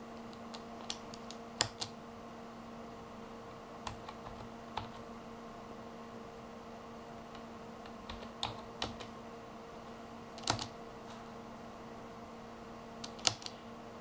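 Typing on a Roccat Valo keyboard to input a macro, sparse scattered keystrokes with irregular pauses, quiet and close over a faint steady background hum.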